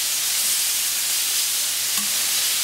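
Beef fillet with paprika sautés in a hot pan, making a steady, even hiss and sizzle close by with one faint clink, and no voices.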